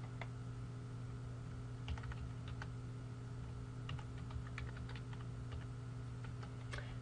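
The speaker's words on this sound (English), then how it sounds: "As I type in the data, shown on page 95, I will show you what we did here." Data being typed into a Microsoft Access table on a computer keyboard: sparse, light key clicks and short bursts of taps over a steady low electrical hum.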